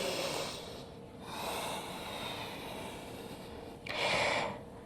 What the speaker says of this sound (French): Encore 2 respirations ici.